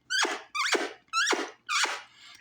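Four quick, squeaky chirping calls, a person imitating a baby alligator, repeated in an even rhythm, close up and loud.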